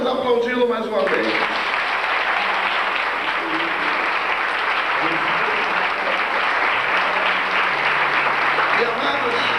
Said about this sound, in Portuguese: Então vamos aplaudi-lo mais uma vez.